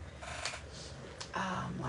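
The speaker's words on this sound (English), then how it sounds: "Oh, that's a beautiful shuffle." Tarot cards shuffled by hand during a reading, producing soft quick riffling bursts close up at low level, with no talking.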